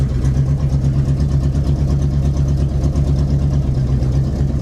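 A Jeep's engine runs steadily while driving, a loud, even low rumble with a constant droning hum throughout and no pauses.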